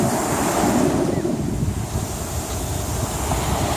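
Sea waves break and wash onto Bağırganlı beach in Kandıra, a loud, continuous surging roar with heavy wind buffeting the microphone.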